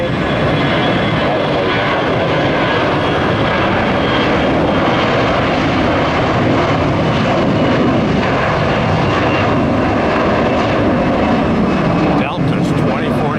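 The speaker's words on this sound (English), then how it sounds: "That's an Airbus A321." An Airbus A321 airliner's engines roar loudly and continuously at Tampa airport, a dense, steady rumble that fills the whole stretch, with a voice talking over it.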